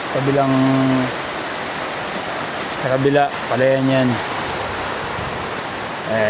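A swollen river near a village rushes loudly during a typhoon, a constant broadband roar of flowing water, while a person talks over it in short bursts.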